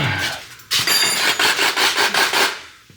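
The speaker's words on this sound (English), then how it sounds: "Just cut the bolts, don't fuck with the flanges." Hand saw cutting through exhaust bolts on a 2JZ-powered GS300 junkyard catback, a loud close run of rhythmic metallic back-and-forth strokes, about eight in quick succession.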